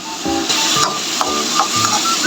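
Chicken sautéing in a pan gives a loud, steady sizzle and hiss, with small pops and scrapes of stirring throughout.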